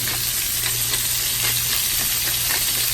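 Carrots fry in a very hot frying pan, giving a loud, steady, dense sizzle with a constant crackle that runs through the whole stretch, close to the pan and with no voices.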